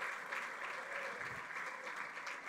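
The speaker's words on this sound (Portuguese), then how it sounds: "Aplauda o Senhor." A church congregation applauding, a steady wash of many hands clapping, faint and continuous throughout.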